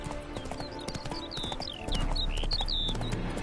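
Hooves clip-clop on the ground in The Witcher 3 as a horse is spooked, with faint whinnying squeals layered over the steady gait and game ambience.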